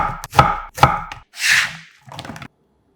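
One zucchini sliced 0.5 cm thick and cut into matchsticks with a knife on a board: a few sharp close chops, a brief scraping slice, then a final cluster of cuts, no talking.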